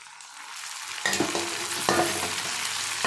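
Thinly cut tomatoes fry in a pan of grill chicken curry, giving a steady close sizzle. It swells in bursts as a spoon stirs and scrapes about three times, with no voices.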